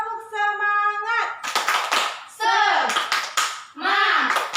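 A school class of children joins in the rhythmic 'tepuk semangat' spirit clap, bursts of hand clapping that alternate with a teacher's voice and children chanting along.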